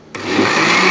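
An electric mixer whisking crêpe batter with butter and salt starts up abruptly and holds a steady, loud, close whirring hum.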